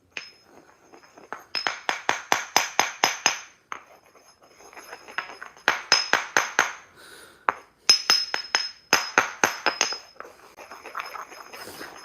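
Homemade thermite scraped out of a container with a metal tool in repeated rapid clinking, scratchy strokes, fired off in bursts of about eight quick hits separated by short pauses, close and fairly loud.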